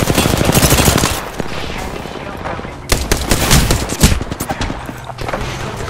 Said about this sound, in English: Oh, getting shot at.